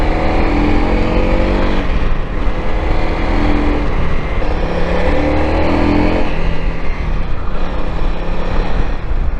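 A Honda CRF250L or CRF300L dual sport motorcycle on knobby tires, ridden standing up along a scenic route, gives a loud, steady engine and wind roar that fills the whole stretch without a break.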